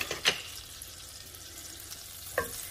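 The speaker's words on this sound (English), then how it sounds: "And I'm also gonna go in with knobs of butter." Knobs of butter melting in a pan, a soft steady sizzle running under the whole clip, with two sharp clinks of a utensil at the start and near the end; no talk.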